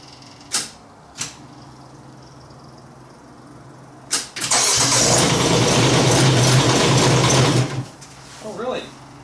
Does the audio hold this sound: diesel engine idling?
yes